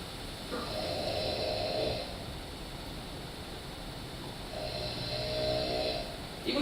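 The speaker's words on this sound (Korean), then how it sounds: "이것도 코를 골고 숨을 멈추지는 않는 것 같아요 지금." Snoring during sleep with shallow breathing that never fully stops, two drawn-out, rasping snores rising out of a quiet, hissy background, heard alone and fairly faint.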